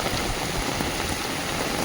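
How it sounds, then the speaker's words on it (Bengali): Heavy rain pours down on a house construction site, washing away mixed cement and sand; a dense, steady hiss of water fills the whole moment without a break, with no voices. "এত জোর বৃষ্টি আসবে বুঝতে পারিনি"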